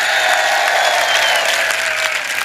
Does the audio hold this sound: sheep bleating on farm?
no